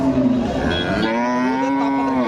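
A cow moos loudly and close by in one long, drawn-out call, with another lowing voice overlapping partway through, at a cattle market with Friesian milk cows.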